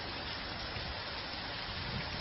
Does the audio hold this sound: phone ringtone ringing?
no